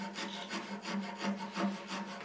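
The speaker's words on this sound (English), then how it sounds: "you just kind of work the rasp to one side or the other to do that" A rasp files a wooden spiral turning in steady back-and-forth strokes, about three per second. The rubbing rasp is close and clear, with no talking.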